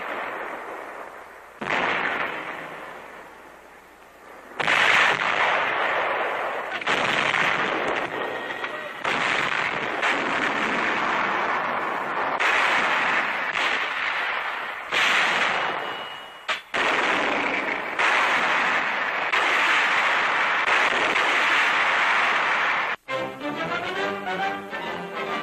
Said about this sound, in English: Powerful 105 and 155 millimeter howitzers blasting